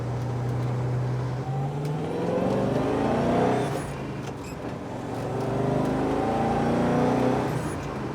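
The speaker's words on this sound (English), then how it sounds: "Can't believe I'm actually driving a genuine A9X hatchback." Genuine V8 A9X hatchback muscle car revving hard while driving, the engine note rising and falling through two long surges, loud and close with a steady rumbling drone throughout.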